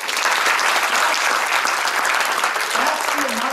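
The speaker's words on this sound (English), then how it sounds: "Give her a round of applause" Loud, dense applause fills a leadership conference hall, a steady wash of many hands clapping that holds without a break from start to finish.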